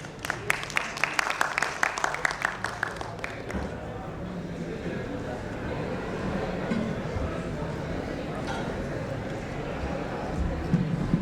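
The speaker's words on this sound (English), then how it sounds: "Please give them a big round of applause." Audience at a tech conference panel applauding as panelists take the stage, a few sharp individual claps at first, then softer, scattered clapping fading under murmuring voices and talk.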